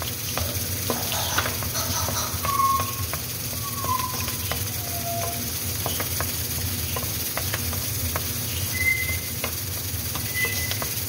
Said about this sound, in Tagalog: ilagay natin ang sibuyas. Ilagay lang natin na maluto ang sibuyas